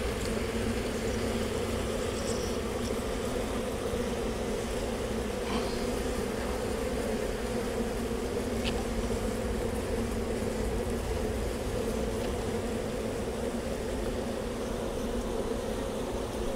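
A thick, steady drone of honey bees fills the air around an opened hive, near and constant, with faint clicks and no speech.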